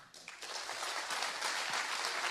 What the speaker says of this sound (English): Give a big applause to Chad.